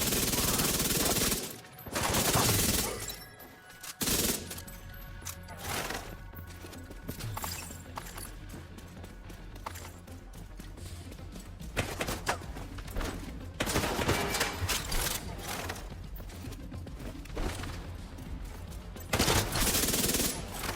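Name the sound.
gunfire from the video game The Division 2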